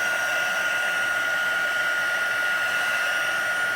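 Heat tool blowing hot air to melt embossing powder on a card, a loud steady close whirring hum that holds constant throughout without any talking.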